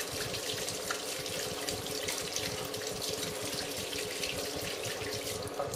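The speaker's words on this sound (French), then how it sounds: "Et on récupère notre beurre. Voilà. On va le rincer." Homemade butter is rinsed under running tap water, a steady close hiss of flowing water splashing into the sink without a break.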